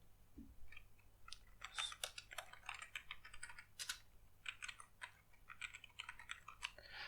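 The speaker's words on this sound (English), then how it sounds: "you can open up your command prompt and type pip install TensorFlow." Fast, uneven bursts of typing on a computer keyboard, close and fairly quiet, with crisp key clicks and brief pauses between runs of keystrokes.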